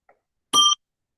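A quiz buzzer during an online quiz final sounds one short, bright electronic beep against near silence, preceded by a tiny faint blip.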